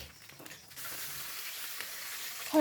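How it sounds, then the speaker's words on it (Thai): Sausages frying in hot oil in a pan, a steady soft sizzle and hiss that rises slightly after the first second, with a brief clatter at the end and no speech. "เราใช้กระทะค่ะ ตั้งไฟให้ร้อน ใส่น้ำมัน แล้วเราก็ทอดไส้กรอก"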